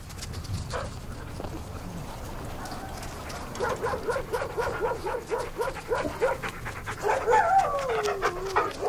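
Sled dogs working with an expedition and dog sledding guide pant rapidly and whimper close by, with faint yips rising near the end over a steady outdoor background.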